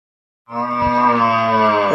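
A dairy cow with her fifteen-day-old calf gives a single loud, sustained moo that starts abruptly and holds steady, close to the listener with no talking.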